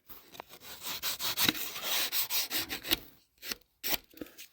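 Thin 1/32 plywood is sanded by hand with a light nail file and sandpaper, giving a close series of quick rhythmic rasping strokes that pause briefly before a few final rubs.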